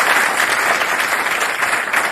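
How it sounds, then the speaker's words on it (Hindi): A poetry recital audience at a kavi sammelan breaks into loud, dense, continuous applause, a close wash of many hands clapping together without letting up. "एक बार समवेत तालियां बजाइए"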